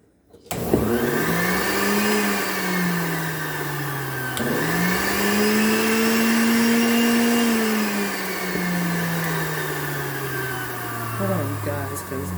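A PowerXL juicer runs with a loud motor whine that rises, dips briefly midway, then resumes, holding a steady droning pitch close by for several seconds before slowing toward the end.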